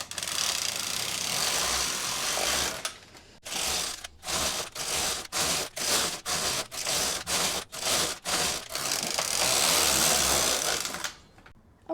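A knitting machine carriage works rows of ribbing in yarn at tension 4.5, a loud continuous mechanical rasp broken by a regular run of about a dozen short sliding passes, then a long sweep again, near and alone.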